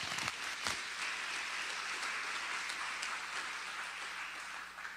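An audience at a parents' information night claps in a steady wash of applause that holds at a constant level throughout, with no voices on top.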